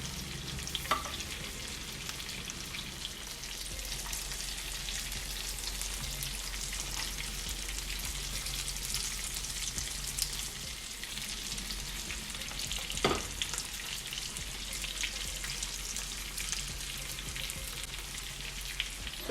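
Shrimp frying in a pot for a home-cooked Valentine's dinner, a soft, steady sizzling hiss that runs evenly throughout, with a couple of faint knocks and no talking.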